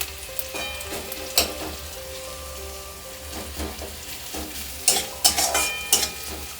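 Onions frying with chopped ginger in a pan on a raised flame, with a steady crackling sizzle and intermittent scraping stirs that cluster into louder clattering bursts near the end, close and without talk.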